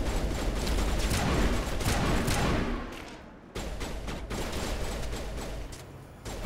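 Rapid turret gunfire in the Mass Effect video game, a dense, loud barrage of crackling shots that breaks off briefly and then resumes in rattling bursts.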